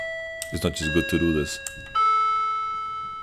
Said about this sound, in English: Alright, that was my doorbell